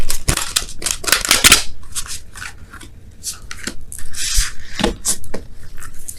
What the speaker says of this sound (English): I'm going to do the same shuffle for wisdom, the whispers of love.